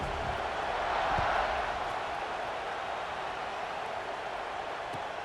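Steady stadium crowd noise in a college football video game as the kickoff unit lines up after an extra point, a broad constant roar with a slight swell early on.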